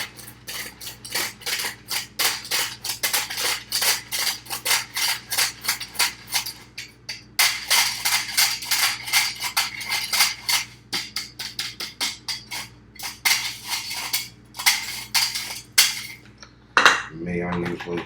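Dry biscuit ingredients being mixed in a bowl, with rapid, rhythmic scraping and clinking strokes of a utensil against the bowl, close and steady, pausing briefly before resuming.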